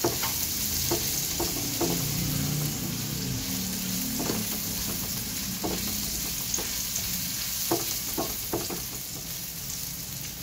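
Chili goes into a pan for spicy noodles and is stir-fried, producing a constant close sizzle punctuated by repeated sharp clacks of a utensil against the pan.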